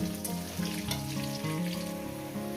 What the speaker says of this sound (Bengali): আমি আলুটাকে সুন্দর করে লাল লাল করে ভেজে নিয়েছি